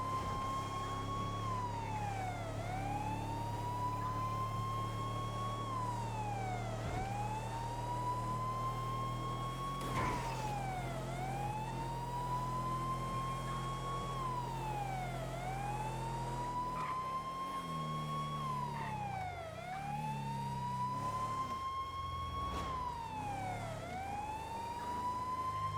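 A video game ambulance siren wails in repeating rising and falling sweeps, steady and fairly loud, with an engine drone underneath and occasional thumps.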